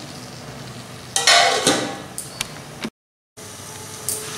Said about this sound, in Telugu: ఒక 2 నిమిషముల నుంచి 3 నిమిషముల వరకు వీటిని మీడియం ఫ్లేమ్ మీద వేయించుకోవాలి